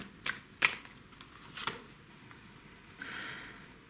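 Tarot cards gathered up and handled, a few sharp close snaps and flicks spaced apart, then a soft sliding rustle, with no talking.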